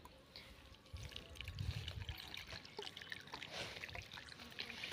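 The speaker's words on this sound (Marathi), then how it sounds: "आपण शेवगा हा स्वच्छ 2 पाण्याने धुवून घेऊया" Drumsticks are rinsed in a vessel of water with soft, continuous sloshing and trickling, close by and faint, with no talking.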